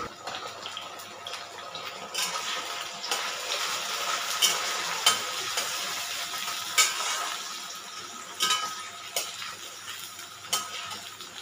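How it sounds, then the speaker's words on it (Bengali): Chopped tomatoes go into a pan of browned onions and fry with a soft, steady sizzle, with occasional stirring scrapes and light clinks of a utensil against the pan. "পেঁয়াজটা লাল হয়ে এসছে, এরপর কেটে রাখা টমেটো দিয়ে দিলাম।"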